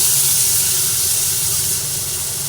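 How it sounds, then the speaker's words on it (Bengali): Ginger and tomato frying in a pan give a loud, steady, close hiss of sizzling oil that continues without a break and fades slightly toward the end. "সব নিয়ে ভালোভাবে ভেজে নিচ্ছি তারপরে এর মধ্যে টমেটো দিলাম"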